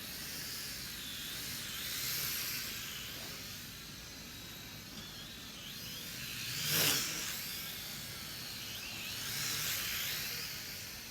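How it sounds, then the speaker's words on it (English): Cheap toy-grade quadcopter drone, flown without its landing gear and camera, buzzing with a steady high whine that swells and fades as it flips and passes, with one brief louder surge. "This is how I like to fly these little toy grade quads like this"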